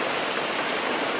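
Heavy rain pours onto a large festival pandal built for Ramlila, a dense, even hiss of falling water that stays loud and constant throughout.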